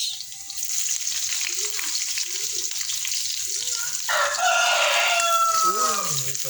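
A rooster crows nearby several times over the loud steady sizzle of chicken innards frying in a pan, with a final longer crow rising over the cooking noise.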